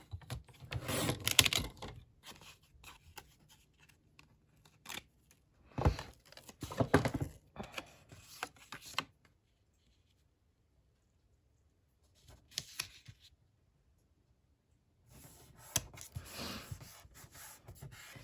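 Scissors cutting paper scraps for a handmade baby card, close crisp snips and rustles in short bursts separated by quiet gaps.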